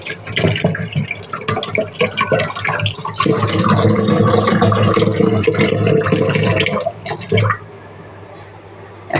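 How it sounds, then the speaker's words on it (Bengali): Tap water runs and splashes loudly while vegetables are rinsed by hand, the flow dense and churning for several seconds, then cutting off to quieter drips and handling sounds. "এবারে দেখো সবগুলি আমি ধুয়ে নেব"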